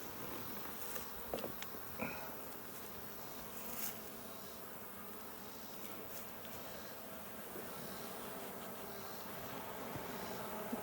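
Africanized honeybees at their hive, a steady mid-distance buzzing hum with occasional louder passes of individual bees flying close, continuous throughout without talk.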